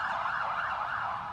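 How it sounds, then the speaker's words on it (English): Emergency vehicle sirens blare during a 7 p.m. tribute to essential workers amid the COVID-19 outbreak. A steady, loud wailing rises and falls continuously on its own, with no talking. "blaring sirens have become a ritual at 7 p.m."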